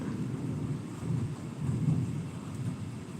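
Thunderstorm over Granite Falls, North Carolina, with a steady low rumble of rolling thunder that swells mid-clip, mixed with wind and rain noise, no talking.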